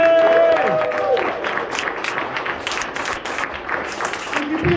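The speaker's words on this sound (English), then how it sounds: "I'd like a big round of applause from Peterborough Chalkboard for Lou Ridgeway!" Comedy club audience in Peterborough applauding a comedian's introduction, a steady wash of clapping and crowd noise lasting throughout, with a brief voice at the start.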